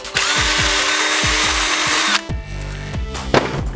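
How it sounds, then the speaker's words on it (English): A power drill bores a hole in a Targus monopod used for a GoPro kayak pole, a loud high whirring run for about two seconds, then several short bursts as the drill revs and stops. "and drill a hole."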